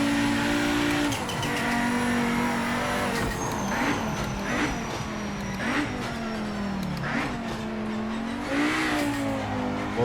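Race car engine in the Project Motor Racing video game, loud and continuous, revving and shifting pitch through repeated accelerations with brief tire squeal, heard alone without talk.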